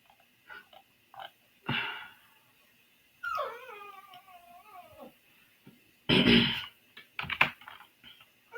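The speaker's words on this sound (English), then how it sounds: "Sorry if y'all can hear my dog in the bed." A dog in bed whines and cries in a drawn-out, wavering tone partway through, among bursts of computer keyboard typing and clicking nearby.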